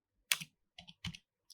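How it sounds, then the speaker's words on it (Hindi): Four crisp computer keyboard key presses click in an uneven rhythm, close and clear, with silence between them. "आप सीधा की को प्रेस करेंगे F2 करेंगे"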